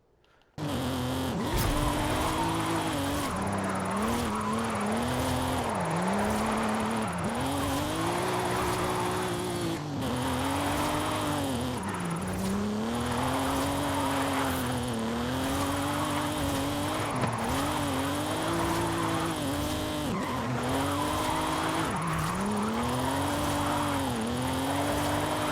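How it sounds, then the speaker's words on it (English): A Nissan 370Z drifting in Forza Horizon, its engine droning and revving in long swooping rises and falls with tire squeal, loud and continuous throughout. "the 370Z drifts pretty dang easily to begin with"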